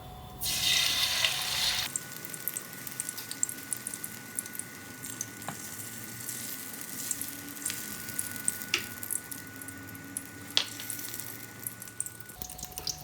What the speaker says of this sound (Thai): เราไปทอดกัน ใส่ไข่เจียวนะครับ